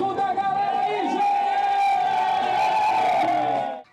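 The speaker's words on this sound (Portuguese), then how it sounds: "Eu quero ouvir o grito da galera aí, gente!" A crowd at a 10 km road race shouts and cheers in one loud, sustained roar of mixed voices, holding steady before cutting off at the end.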